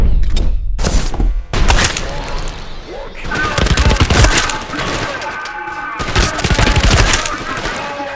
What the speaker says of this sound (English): then you get the vectors, which shooting an enemy sounds like you're ripping apart a wet rag